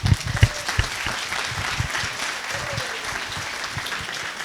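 Crowd applause for school employee honorees at an awards celebration, dense clapping with a few sharp close claps at first, then a sustained even roar.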